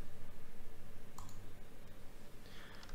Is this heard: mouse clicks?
yes